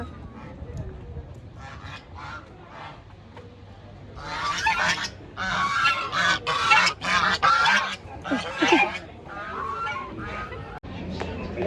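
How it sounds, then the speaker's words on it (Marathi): Ducks at a pond quacking and honking in a busy cluster of loud, overlapping calls, rising after a quieter start with a few scattered calls, amid outdoor background noise. "बदका बदका."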